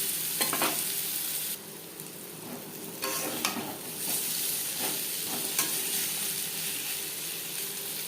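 Sliced bitter gourd sizzles steadily in hot oil with salt and turmeric, a continuous close frying hiss broken by several brief stirring scrapes of a spoon against the pan.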